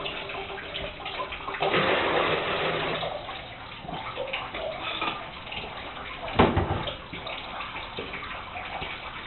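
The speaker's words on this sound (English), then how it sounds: "You want to empty the water out of the sump." Water drains from a plumbing filter's sump housing into a bucket. A short, rushing splash rises and then fades into quieter trickling, with a faint knock near the end.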